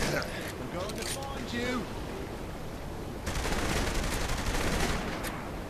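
Gunshots in Saints Row The Third, a few scattered cracks early on and then a sustained louder stretch of firing over a noisy game mix, with faint voices beneath.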